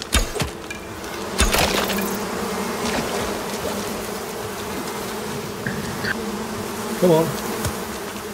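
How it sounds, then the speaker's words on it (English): Bees buzzing around a bee's nest in the survival game Icarus, a steady insect drone running throughout with a few sharp cracks and a brief spoken word over it. "I can hear some bees."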